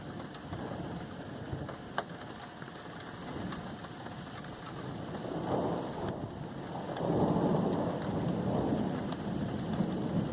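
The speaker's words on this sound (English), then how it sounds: "like the rain and the lightning." Steady rain with rolling thunder from a stormy Geometry Dash level, a continuous wash of downpour that swells louder in the second half, with one sharp crack early on and no voices.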